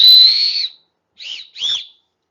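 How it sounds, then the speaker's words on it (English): A handheld whistle blown three times: one long shrill blast, a pause, then two shorter toots close to the mic, with nothing else heard. "I got a whistle right here."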